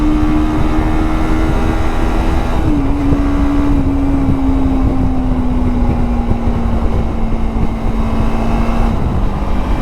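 Zongshen RX3s motorcycle cruising at about 100 on a ride in Lahore, Pakistan, a loud steady engine drone with a sustained tone that drifts slightly lower, accompanied by constant wind rush.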